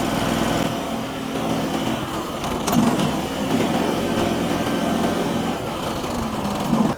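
A motorized farm power carrier runs in first gear with a steady, loud small-engine drone and mechanical rattle that holds evenly throughout, with no voices.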